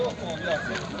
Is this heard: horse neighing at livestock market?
yes